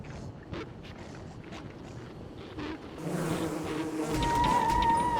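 Killer bees buzz in the Don't Starve game as a droning hum that grows louder and nearer toward the end, over game ambience, with no talking.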